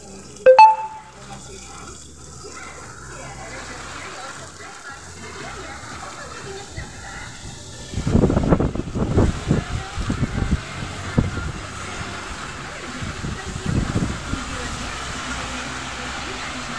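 Heavy rain driven by strong wind outside a restaurant makes a steady wet hiss with gusty, rushing surges, while someone talks over it.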